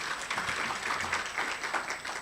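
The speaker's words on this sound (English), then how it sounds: "Could we just give him another round of applause?" A conference audience gives a speaker a short round of applause, the clapping moderately faint and steady throughout.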